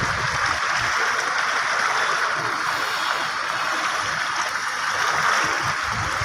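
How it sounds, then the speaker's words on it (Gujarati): Strongly flowing river water rushes in a continuous loud broadband roar, steady throughout with no voices. "નદીનું વહેણ"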